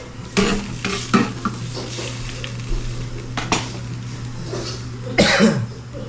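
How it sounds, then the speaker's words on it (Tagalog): Liquid bubbling and simmering in a pot under a steady low hum, with a few scraping stirs and utensil clinks. "Yan, kumukulo na siya mga kautol"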